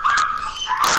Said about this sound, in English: What are you barking for, dogs?